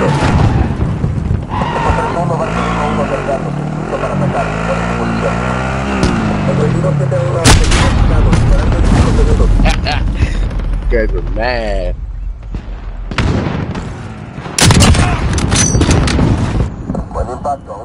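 Gunfire and artillery blasts from the Call of Duty Modern Warfare video game, loud and dense throughout, with heavy booms and bursts and a spoken voice mixed in among the shooting.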